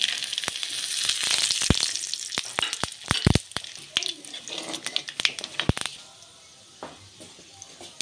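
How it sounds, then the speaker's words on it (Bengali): Whole cumin, bay leaf, dried chilli and garam masala spices crackle and sizzle in hot oil for a Bengali aloo dum, a steady bright frying hiss with sharp pops and clicks scattered throughout, easing off near the end. "গরম তেলের মধ্যে গোটা জিরে, তেজপাতা, শুকনো লঙ্কা আর গরম মশলা ফোড়ন দিয়ে দিচ্ছি।"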